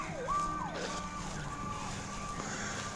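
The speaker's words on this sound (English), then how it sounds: "I can hear fire trucks now. Ambulances." Wailing fire truck and ambulance sirens rise and fall in the distance, several overlapping tones sweeping up and down against a quiet backyard background.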